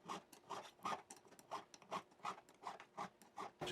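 A file rasps back and forth across the sharp edges of guitar frets in short, regular strokes, about ten quick scraping passes at a steady rhythm, faint and close with no talking.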